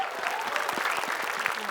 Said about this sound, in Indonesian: Boleh Kita beri tepuk support.